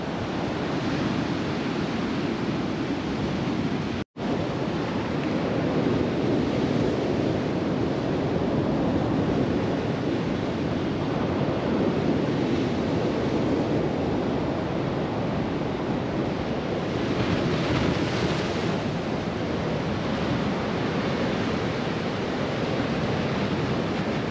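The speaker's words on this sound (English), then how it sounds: "all what you can hear is the sea" Rough sea crashes along the Blackpool promenade as a steady, dense roar of surf mixed with wind buffeting the microphone, broken by one brief dropout near the start and otherwise unbroken, with no voices.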